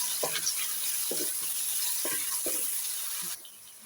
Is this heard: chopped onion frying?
yes